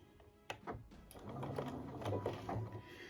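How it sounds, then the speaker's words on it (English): Sewing machine back stitching along the edge of a fabric scrunchie at a two stitch length, a steady close mechanical whirring run with a brief clunk at the start. "So we're going to start with the back stitch"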